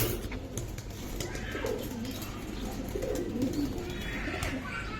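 Pigeons, including Giribaz high flyers, coo softly and repeatedly at a pigeon seller's lofts, low murmuring calls spread through the clip over steady background noise.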